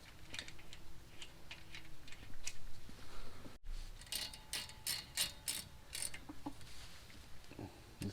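A hand ratchet snugs up the front brake caliper slide bolts on a Buick Enclave, clicking in quick close bursts with brief pauses between strokes and no talking.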